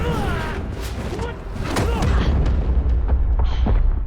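Aang slams into the ground in an animated Avatar: The Last Airbender fight, giving a heavy boom and thud among rushing, whooshing impacts, loud and close, with brief cartoon voices mixed in.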